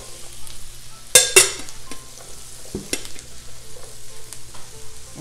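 Yellow squash and zucchini fry in butter with onion while a utensil stirs them in the pan, giving a steady close sizzle broken by a couple of sharp scraping clatters and soft stirring scuffs.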